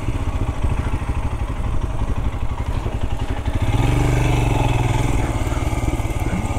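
Royal Enfield Scram 411 scrambler, a 2023 budget model, ridden over a small off-road track, its engine thumping steadily and close, rising into a louder, harder pull partway through, no talking.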